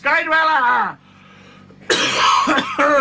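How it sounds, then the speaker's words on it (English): A voice is interrupted by a harsh throaty cough, then he resumes speaking close to the mic. "Bit of a nasty cough there."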